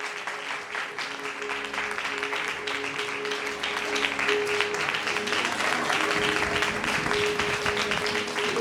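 A congregation applauds loudly at a sermon gathering as a guest is welcomed with a garland. The clapping is dense and continuous for over eight seconds, with a faint steady hum beneath it.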